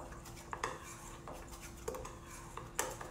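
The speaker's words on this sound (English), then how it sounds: "let me just kind of give this a quick stir and get it combined" A spoon scrapes and clinks against a bowl while stirring dry keto cookie ingredients, with a few soft taps spread over a quiet, hissy background.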